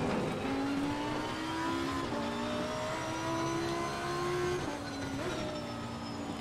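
A Lamborghini race car in Assetto Corsa Competizione drives around a track, its engine roaring steadily, climbing in pitch and dropping sharply at several quick gear changes, with no voices.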